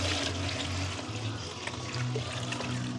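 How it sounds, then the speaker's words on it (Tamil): Water pours steadily into a cooking pot of meat in a continuous splashing stream, with a low hum underneath. "இப்போ அளவாக தண்ணியை விட்டு விடுவோம்."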